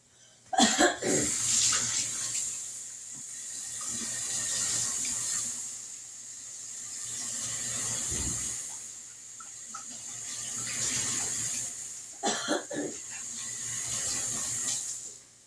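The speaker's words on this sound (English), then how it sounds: "Let me wash my hands." Tap water runs steadily as hands are washed at a kitchen sink, a moderately loud continuous splash with brief clunks near the start and again around twelve seconds.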